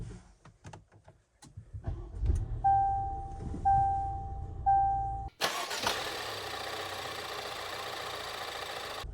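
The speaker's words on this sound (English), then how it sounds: "I want you to hear this. So let's get it started." A few clicks and a starter cranking in short bursts, then a rebuilt car engine catches with a roar and settles into a steady idle.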